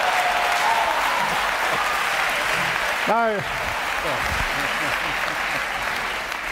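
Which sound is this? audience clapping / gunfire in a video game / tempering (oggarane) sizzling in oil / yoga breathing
audience clapping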